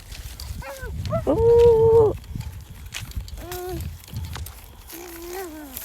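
A cow lows several times, long drawn-out moos with pauses between, while people talk quietly nearby and footsteps or rustling sound in the background.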